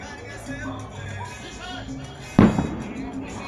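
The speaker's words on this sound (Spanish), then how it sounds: "Más cohetes." A single firework rocket bursts with a sharp, loud bang partway through at a nighttime castle-burning festival in San Miguel Ameyalco, following a stretch of faint background crowd murmur and distant activity.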